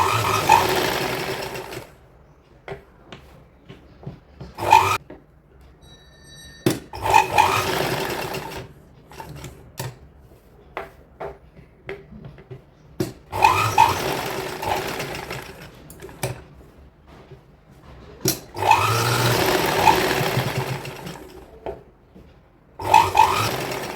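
A sewing machine stitches around a kurti neckline in several separate short runs of a few seconds each, close and clear, separated by quiet pauses with small handling clicks.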